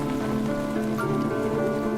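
Steady rain falls in a continuous, even patter and hiss with a faint tonal hum beneath, and no voices.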